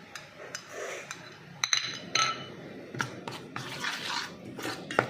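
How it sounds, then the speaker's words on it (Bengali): Gram flour and cornflour batter being mixed with water in a bowl, soft wet stirring with sharp clinks of a spoon against the bowl at irregular intervals, close and fairly quiet. "এবার একটু জল দিয়ে আমি একটা ব্যাটার তৈরি করছি"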